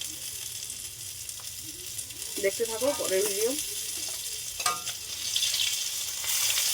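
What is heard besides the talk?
fish frying in oil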